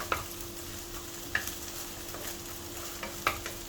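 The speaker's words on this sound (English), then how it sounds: "let's continue to stir and stir" Leftover egg fried rice stir-fries in a little oil, with soft sizzling under a few sharp scrapes and clacks of the spatula against the pan, fairly quiet and close.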